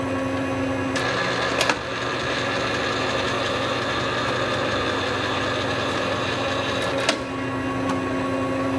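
A Hardinge HLV-H precision toolroom lathe runs steadily while threading with the half nuts engaged, giving a constant close mechanical hum with a couple of brief clicks.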